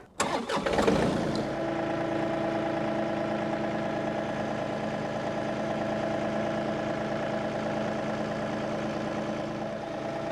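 A heavy tractor engine cranks briefly, catches, and settles into a steady, rumbling idle that continues without pause.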